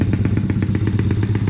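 A motorcycle engine with a scratched cylinder bore puffs smoke while it idles close by, giving a steady rapid pulsing putter throughout.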